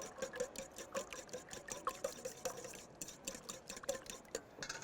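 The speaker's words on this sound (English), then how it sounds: "And I'll just whisk this up." Egg and buttermilk are whisked briskly in a bowl, giving a steady run of quick, soft clinking and sloshing strokes at close range with no talk.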